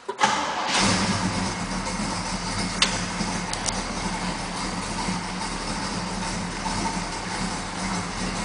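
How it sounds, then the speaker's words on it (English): A 1969 Pontiac GTO The Judge V8 cranks and catches with a sharp burst, then settles into a steady, rumbling idle with a slight lope, heard close and alone. "I'm going to start it off for you guys so you get to hear the motor"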